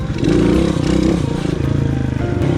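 A motorcycle engine revs hard and steadily during a wheelie clutch-up practice drill. The loud, continuous, throaty drone rises and holds with slight pitch wobble for about three seconds.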